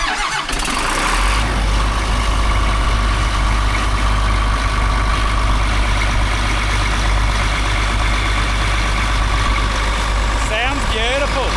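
Newly replaced engine of a harvest machine idling loudly and steadily up close, a deep continuous rumble with a person talking over it.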